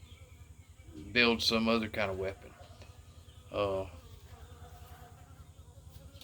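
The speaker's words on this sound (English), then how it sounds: "These little bees, they just fighting with the flies that are out here and stuff" Small bees buzzing and tangling with flies outdoors make a low, steady droning hum that runs throughout, with someone speaking over it in two short bursts.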